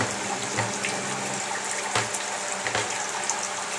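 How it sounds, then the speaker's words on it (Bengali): A steady stream of water splashes and gurgles as it is poured into a pot of small fish being cooked, fairly quiet and continuous, with no talking. "সামান্য একটু পানি দেবো"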